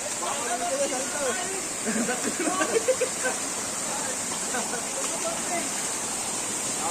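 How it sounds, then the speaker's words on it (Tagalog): A waterfall gives off a steady broadband rush outdoors while several people talk and exclaim over it in Tagalog. "May falls pa."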